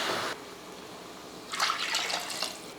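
Two cups of water poured from a cup into a pot for kuska rice, a brief splash at the start followed by a louder, gushing second pour.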